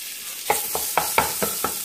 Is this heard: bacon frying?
yes